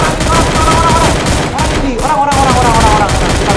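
Rapid bursts of gunfire in the Free Fire battle royale game ring out loudly and almost without a break, stacked into dense overlapping volleys during a fight around a house, with no talk over them.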